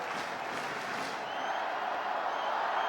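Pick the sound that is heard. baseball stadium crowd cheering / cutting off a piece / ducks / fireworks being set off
baseball stadium crowd cheering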